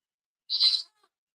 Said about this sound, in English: like a goat going into labor?